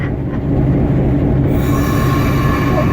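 A locomotive train runs steadily on rails, with continuous loud rumble and squealing wheels throughout, no talk.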